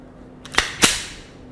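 A Girsan MC 28 SA pistol fires a live round, a sharp close crack, followed a moment later by a second loud report that rings off briefly.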